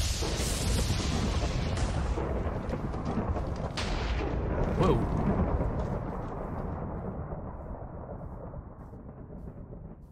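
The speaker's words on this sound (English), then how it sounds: "More lightning." Lightning strike in Minecraft with a loud, broad rumbling thunder that swells around the middle and slowly fades, a brief exclaimed word from a player over it.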